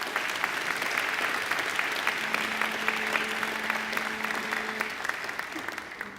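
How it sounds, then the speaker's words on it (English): Sustained audience applause at a Macquarie University graduation ceremony for alumni volunteers, a dense steady wash of many hands clapping from start to finish, with a faint tonal hum in the middle. "I'm sure you'd like to give them a round of applause too."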